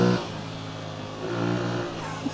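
An Aprilia Tuareg motorcycle on Pirelli tyres rolls off pavement onto a dirt road, its engine note droning steadily and swelling briefly as the throttle opens, recorded close with wind rush.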